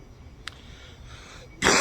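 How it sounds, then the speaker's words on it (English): A person wearing a mask in a history museum coughs, with a faint brief catch early on and then a louder, sharp cough at the end over quiet room tone. "This mask makes me cough."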